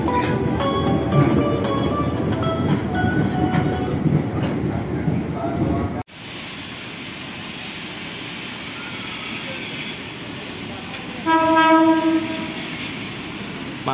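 Commuter train at Manggarai station in Jakarta, a loud rumbling run of rail cars followed by a brief cut to a quieter platform scene where a sustained multi-tone train horn sounds near the end.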